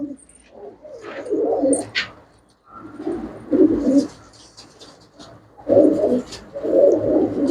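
Pigeons with ringed necks cooing close by in a loft, several throaty coos coming in bursts with short pauses between them.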